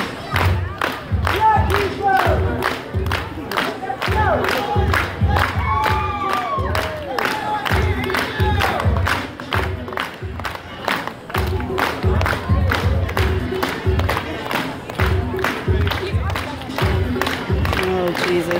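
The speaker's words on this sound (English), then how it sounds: "Everybody clap your hands." A crowd claps in unison in a strong, regular beat while people cheer and whoop over it. The rhythmic hand claps stay loud and close throughout.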